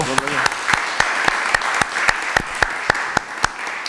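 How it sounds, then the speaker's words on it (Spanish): An audience at a law postgraduate congress applauds a speaker, Doctor Gonzalo: steady crowd clapping throughout, with distinct sharp claps from someone close by cutting through at a regular pace. "Un aplauso"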